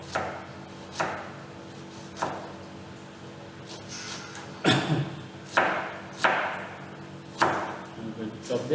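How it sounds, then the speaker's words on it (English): A knife chops half an onion on a board with a few sharp, separated thuds, some closer together, in a kitchen where a cook prepares a British dish. Muted talk runs underneath. "I'm going to chop this."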